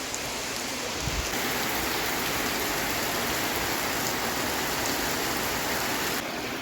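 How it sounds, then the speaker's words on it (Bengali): Heavy rain roars steadily during a thunderstorm, a thick continuous wash of falling water close by, with a brief low thump near the start. "ভালোই জোরে বৃষ্টি পড়ছে"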